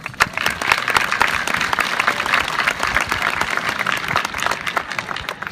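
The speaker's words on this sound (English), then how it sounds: "Let's give them a round of applause" A graduation audience claps in a dense, lively round of applause that holds strong for over five seconds, with individual claps popping out of the crowd and no speech over it.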